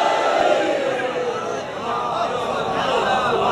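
At a religious majlis gathering, a large crowd chants Haideri together, a loud sustained collective roar of many voices echoing through the hall.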